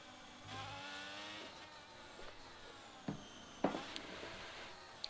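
Race cars in a racing game weave across the track at the British Grand Prix before the start, their engines whining faintly at a distance, broken by a few sharp knocks.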